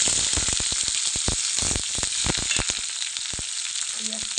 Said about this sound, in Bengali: তেল গরম হয়ে গেছে, এখন পেঁয়াজটা